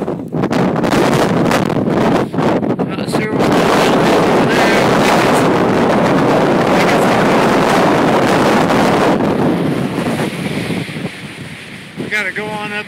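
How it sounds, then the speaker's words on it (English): Strong wind roars across the microphone on a high mountain saddle below the summit, a loud, continuous buffeting rush that eases a little near the end, with faint voices partly buried underneath. "it's really, really windy."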